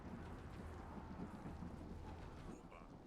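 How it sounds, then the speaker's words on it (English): Rain and rolling thunder in the video game Yes, Your Grace, a faint, steady wash of rainfall with a low rumble underneath and no voices. "Rain."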